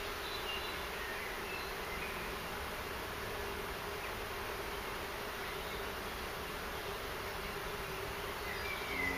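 Honeybees buzz densely and continuously around an opened beehive during an inspection, a steady, close, even drone with no speech.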